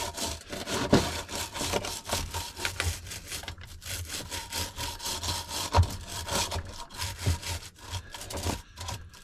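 A fat bike part is scrubbed near the grime guard with quick, rhythmic rubbing strokes, a steady back-and-forth scratching that continues throughout without talk.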